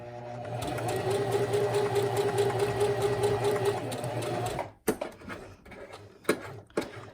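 Sewing machine stitching a patch pocket runs in a steady, close whirring burst for several seconds, then stops, followed by a few light clicks and handling knocks as the fabric is pivoted.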